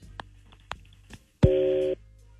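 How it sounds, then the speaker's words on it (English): A telephone number is dialed for a radio prank call, with a few short tones and clicks followed by one longer, louder steady tone, sounding alone with no talking. "let's make the phone call."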